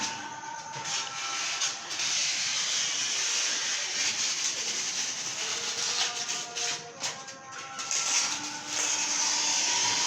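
Workshop cutting machine running steadily, a continuous broadband hiss and whine with no break for about ten seconds, fairly loud and close, with no voices over it.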